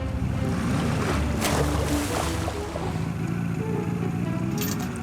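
Ocean waves slosh and wash around a boat in a Fireman Sam cartoon, a steady loud rush of water with wind, with no voices heard.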